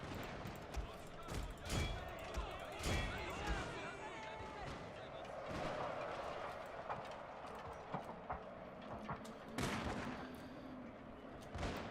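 Cannon artillery booms in a Shogun 2 Total War battle, several heavy blasts scattered among clattering hooves and battlefield din, with talk running over the top.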